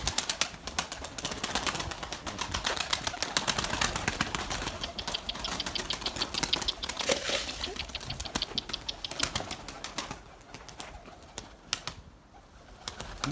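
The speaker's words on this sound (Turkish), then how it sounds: "20 tane kuş havaya kalkıyor." Flock of about twenty pigeons or doves taking off, a dense fluttering burst of wingbeats that runs several seconds and then thins out, moderately close, with a few faint coos.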